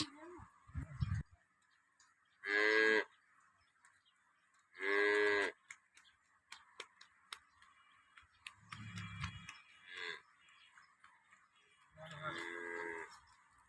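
A desi cow gives several long, loud moos spaced a few seconds apart, with softer lowing, clicks and a voice between calls.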